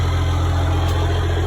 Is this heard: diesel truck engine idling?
yes